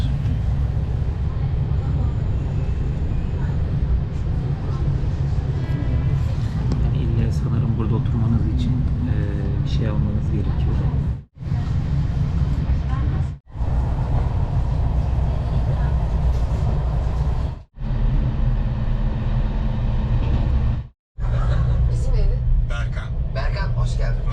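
Inside a moving train's dining car, a steady low rumble of wheels and carriage runs throughout, broken by a few brief dropouts, while people talk over it.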